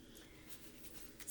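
Pencil writing the word sand on paper, soft faint scratching strokes in a short continuous run, close and quiet with no voices.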